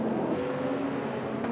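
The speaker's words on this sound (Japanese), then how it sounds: "さあ61が今メインストレートを通過していきましたが" Super GT race car at Fuji passing along the main straight, a steady engine drone held at a constant level throughout, with no voices.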